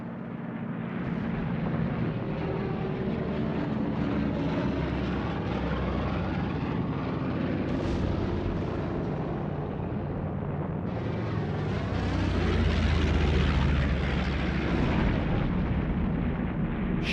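Japanese bombers and torpedo planes attack ships off Malaya and Singapore, with a dense, continuous roar of aircraft engines and explosions filling the whole stretch, loud and unbroken, swelling louder toward the end.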